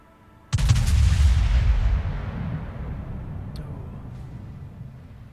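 A World of Warships naval battle: one loud, close main-battery salvo erupts with a deep booming blast that rolls off into a long rumbling decay, followed by a few faint distant thuds.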